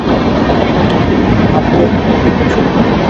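Steady, loud rumble of a Mumbai local train rolling along rails, broadband and continuous with a faint rhythmic clatter throughout, no voices.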